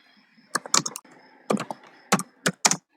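Close computer keyboard typing as JavaScript code is entered, in short bursts of crisp key clicks separated by brief pauses, with no talking.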